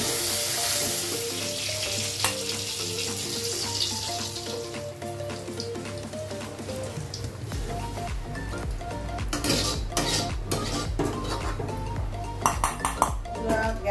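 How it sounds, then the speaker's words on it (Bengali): Tomatoes fry with onions and a little Gobindobhog rice in a pan, giving a steady loud sizzle throughout, with utensil clinks and stirring scrapes growing busier toward the end. "একটু ভাজা ভাজা হয়েছে, টমেটোটা দিয়ে দিলাম।"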